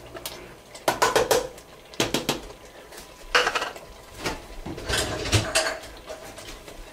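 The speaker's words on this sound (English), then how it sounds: "I'm going to go ahead and put the cubed ham into the soup" Utensils clatter against a metal soup pot as cubed ham goes into cheesy ham and potato soup, a series of clanks and scrapes in irregular bursts, close and moderately loud, with no voices.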